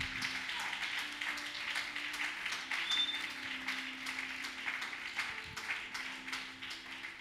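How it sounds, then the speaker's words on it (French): A congregation claps for the Lord during a church service, producing a steady, sustained wash of many hands clapping together, moderately loud and continuous without a break. "Clap for the Lord."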